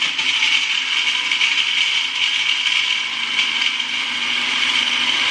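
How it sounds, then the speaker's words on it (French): A kitchen blender runs steadily at full speed, mixing fruit with orange juice; a loud, continuous whirring grind holds for several seconds with no talk over it. "On lance le premier mixage."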